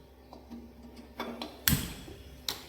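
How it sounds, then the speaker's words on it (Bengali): A kitchen gas stove is switched on, giving a few faint clicks of the knob and igniter followed by a sharper snap as the burner catches, close and quiet. "প্রথমেই গ্যাসটা চালু করে নিচ্ছি।"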